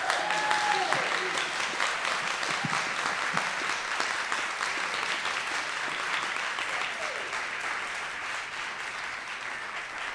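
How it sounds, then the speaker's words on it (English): Sustained applause from a crowd, steady clapping that fades slightly toward the end, with no talking over it. "Let's give another round of applause."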